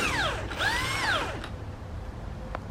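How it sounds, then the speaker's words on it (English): A power tool whines with rising and falling pitch sweeps as it loosens the last strut top nut on a 1999-2003 Acura RSX. A brief click at the end comes over a low background hum. "I'm loosening the last nut from the top"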